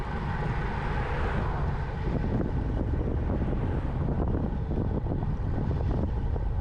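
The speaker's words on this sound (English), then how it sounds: "It's a windy day here in the villages" Strong wind buffeting the microphone during a bike ride along golf cart lanes on a windy day, a continuous loud roaring rumble with no talk.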